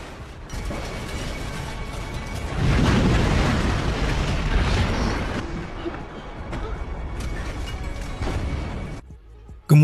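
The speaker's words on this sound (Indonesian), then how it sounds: "Morgan menembaki pom bensin itu hingga pom bensin itu meledak dan menghancurkan tempat itu" A gas station blows up in a film scene, with a heavy roaring blast that swells loud and rumbling for several seconds, then tails off into debris and crackling noise, with a sudden hit at the end.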